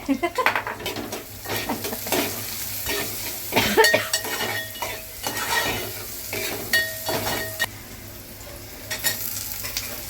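Tomato is stirred in a hot pan, producing sizzling broken by repeated metallic spatula scrapes and clanks against the pan in irregular bursts, with a louder clatter partway through.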